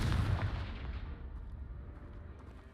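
The Confringo fire-blast spell in the Hogwarts Legacy video game blows apart a pile of debris blocking a stairwell, a single heavy, loud boom that rolls away into a long, fading rumble.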